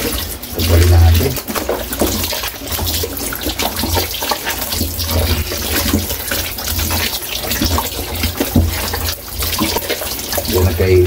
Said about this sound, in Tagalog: Sugasan natin hanggang luminaw, Kaylee, yung tubig